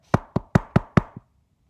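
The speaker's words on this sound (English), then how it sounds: "She took a hold of the knocker and banged on the door." A heavy door knocker bangs on a large cave door five times in a steady, even rhythm, followed by a softer sixth tap, each blow loud and close with a short ring-out.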